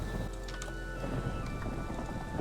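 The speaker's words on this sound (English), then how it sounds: "Yep, definitely a thunderstorm." Rain falls steadily during a thunderstorm in a Minecraft-style game world, a constant hiss of downpour with a low rumbling undertone, continuous and fairly close.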